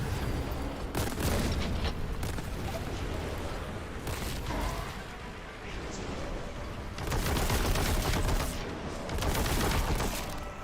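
Shotgun fire in the Warhammer 40k Boltgun video game: loud, dense, near-continuous blasts and explosions, with brief easing between heavy bursts.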